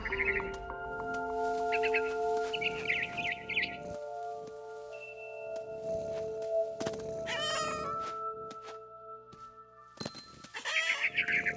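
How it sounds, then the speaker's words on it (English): A cat meows repeatedly in the video game What Remains of Edith Finch, several high, drawn-out cries spaced across steady ambient music, near and clear with no talking. "I was a cat."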